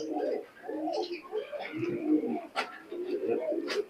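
Teddy pigeons coo in low, rounded, repeated phrases at close range, with a few sharper rustles or wing flutters mixed in among the calls.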